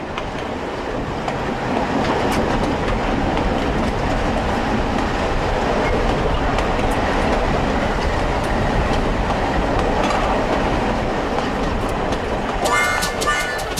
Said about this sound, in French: la remise en service en 1988 du petit train de la White Pass and Yukon Route